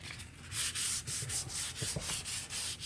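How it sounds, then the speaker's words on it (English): Sanding with 400 grit sandpaper over a first dry coat on a frame built from old materials: repeated rhythmic rasping strokes, close and steady, about ten passes with no talk. "So I'll take some 400 grit sandpaper. You can feel it's a little rough. We'll do a quick sand."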